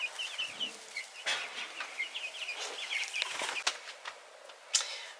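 Chickens cluck and chatter outdoors in their run, a near, busy flock with overlapping short calls and squawks, one sharp louder cry near the end.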